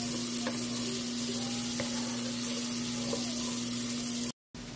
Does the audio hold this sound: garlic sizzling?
yes